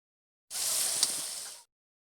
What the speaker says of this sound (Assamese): চিকেন বনাবৰ কাৰণে এয়া পিঁয়াজ ভাজি লৈছে